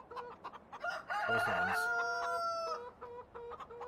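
Chickens in the Farming Simulator game clucking in short repeated bursts, with a rooster crowing loudly in the middle, close by, under brief talk.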